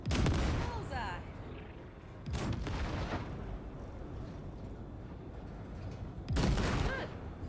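Loud bursts of gunfire from a shooting sequence in Cyberpunk 2077, blasting at ship wrecks. Heavy booming volleys open the stretch, recur around the middle and come again near the end, with sustained rumbling noise between them.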